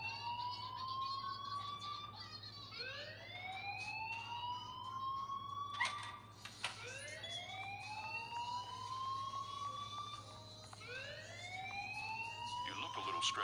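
A school alarm from Life is Strange wails in repeated rising sweeps over a steady low hum, loud and continuous, with brief clattering knocks between cycles.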